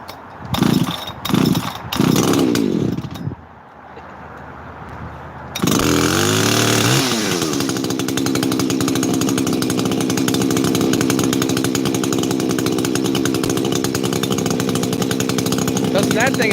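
A chainsaw with a big muffler outlet and OEM top end, with a few brief knocks and a quiet pause before it starts. Once running it holds a loud, steady, raspy high-revving drone close by until the end.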